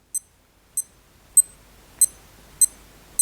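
A Casio DW-H5600 digital watch gives six short, sharp electronic beeps at a steady pace about 0.6 seconds apart, each one clear and close with near silence between them.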